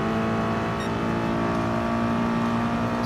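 A Ferrari race car engine in Gran Turismo Sport drones at a steady, loud, sustained pitch, close and continuous, with no talking over it.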